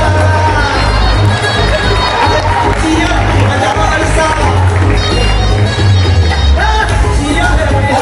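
A school Teacher's Day poetry gathering erupts in loud, sustained applause and cheering from the audience as a poet is welcomed, with a dense crowd roar and voices mixed in throughout.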